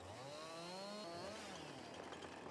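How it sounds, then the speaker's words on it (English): Chainsaw in a farming video game cutting through tree stumps, a steady revving engine whine with rising and falling pitch sweeps, close and continuous with no talk. "just chainsaw these stumps out of the way"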